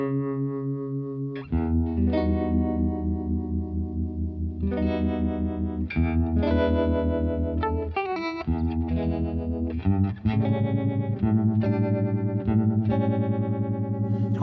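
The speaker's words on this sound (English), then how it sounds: "Yeah, let's do the trem." Electric guitar run through a tremolo pedal set quite fast, sustained chords pulsing in rapid volume wobbles with some distortion and chorus, close and steady with no speech.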